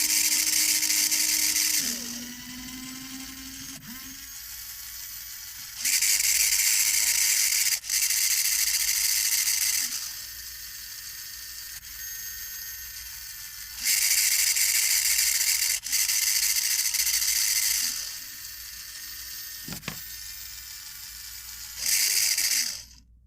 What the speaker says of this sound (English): otherwise these motors will keep making the noise